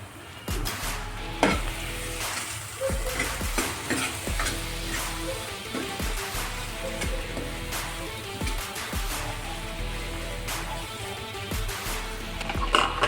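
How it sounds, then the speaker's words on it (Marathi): Pav bhaji masala sizzles and fries in oil while a utensil stirs it, with repeated sharp scraping clicks against the pan over a steady sizzle, close and continuous. "हा मसाला छान फ्राय झालेला आहे."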